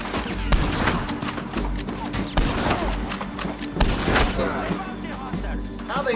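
Rifle shots in Red Dead Redemption 2 on PS4, several sharp cracks and booms spread across a busy gunfight, with someone talking over them.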